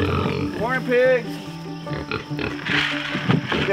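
Pigs in a barn grunt and oink close by at breakfast time, with a person speaking over the animals.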